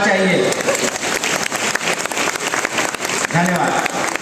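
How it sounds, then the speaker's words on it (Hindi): Crowd at a stand-up comedy show clapping steadily for a poet-comedian, a continuous wash of applause with a voice speaking over it in places. "थोड़ा मुझे भी तालियों का आशीर्वाद चाहिए।"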